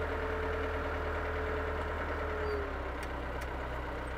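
A Yanmar YT359 hydrostatic tractor engine hums close and steady, its tone shifting partway through as the revs change.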